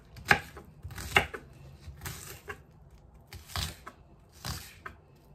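Ingredients for Jamaican curry goat are chopped with a knife on a board, five or six sharp, quiet, close cuts at an uneven pace with near silence between them.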